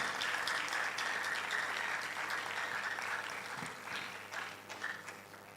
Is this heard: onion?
no